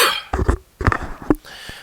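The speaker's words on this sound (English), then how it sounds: "just got a cough" A person coughs several times in a quick burst, close and fairly loud, with a short pause and a final smaller cough, during a Diablo 3 barbarian build commentary.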